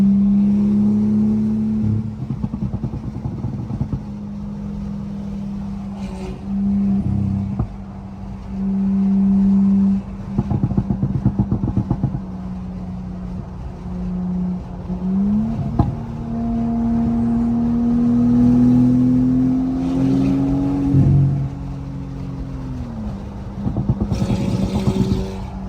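Porsche 911 GT3 engine on a highway, a steady loud drone with rising and falling revs through gear changes, continuous and close throughout with no talking.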